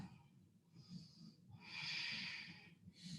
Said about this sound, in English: Take another full, big breath.